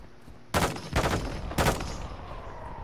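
Three heavy bursts of gunfire from a war video game crack out close and loud in quick succession, each broad blast trailing into a short echoing tail over steady background ambience.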